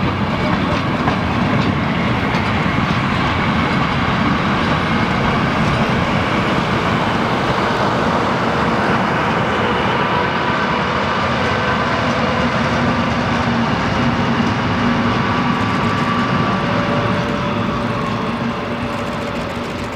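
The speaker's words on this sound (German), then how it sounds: "Hier drückt der Zug gerade rückwärts in den Bahnhof von Stassfurt rein." A special train hauled by a V100 diesel locomotive backs slowly into Staßfurt station, a continuous loud rumble of wheels and wagons with steady rail noise and faint squeals throughout, no pauses.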